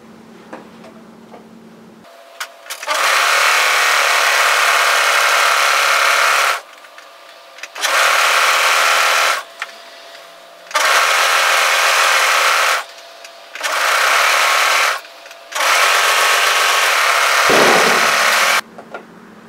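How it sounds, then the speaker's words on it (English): An overlocker tidies a raw fabric edge in five loud bursts of steady high-pitched whirring, separated by short pauses, close and clear with no talking. "So I'm going to go to my overlocker and just overlock tidy this raw edge here."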